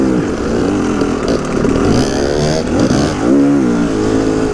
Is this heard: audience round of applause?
no